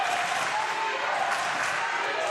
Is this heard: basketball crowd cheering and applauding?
yes